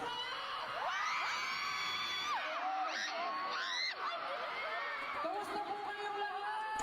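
A concert crowd of fans screams and cheers during day one of a concert finale. High, wavering massed shrieks rise and fall in shifting waves for several seconds, fairly distant and continuous.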